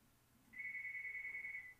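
A telephone ringback tone sounds after a home number is dialed from a MyTouch 3G Slide phone, a single sustained electronic tone at moderate level over quiet background hiss.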